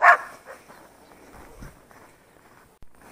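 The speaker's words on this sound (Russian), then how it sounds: "Собаки злые кругом." Angry dogs barking outdoors near a business on the edge of a village, one loud close bark at the start followed by fainter scattered barks and yelps, with footsteps crunching and a quiet open-air background.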